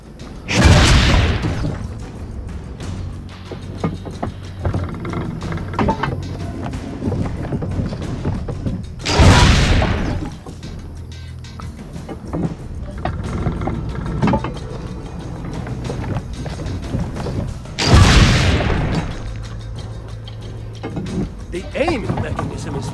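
Three heavy booming cannon shots in the Assassin's Creed video game, spaced about nine seconds apart, each a loud broad blast fading out over a steady background of game ambience and low rumble.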